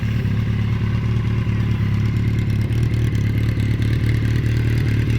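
A 1981 Yamaha XJ750 four-cylinder, four-carburetor motorcycle engine runs steadily close by, a loud even low rumble with a faint mechanical clatter throughout.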